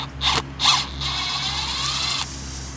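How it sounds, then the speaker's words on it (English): A screwdriver backing a Phillips head screw out of a tire, heard close up as two quick ratcheting clicks followed by a steady grinding mechanical whir under a low background hum. "it's a Phillips head screw that you can easily back out with the screwdriver"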